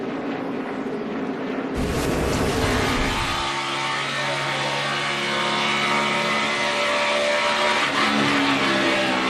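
In-car sound from a NASCAR race car in the 2014 Auto Club 400 while running under caution: loud, steady engine drone with wind noise and a brief rougher burst early on, the car apparently carrying a flat tire.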